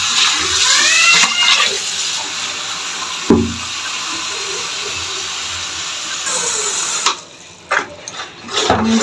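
Water is poured while tomatoes are prepared for homemade tomato sauce, a steady splashing hiss that runs for several seconds before breaking into a few irregular splashes and knocks.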